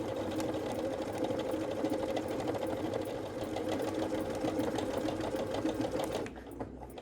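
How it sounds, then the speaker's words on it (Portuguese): A Pfaff Creative Ambition 640 sewing machine runs steadily while stitching fabric, a close, continuous rapid mechanical whir that holds for about six seconds before stopping abruptly into quiet. "Já encaixei meu tecido, venho costurando aqui através do Start Stop."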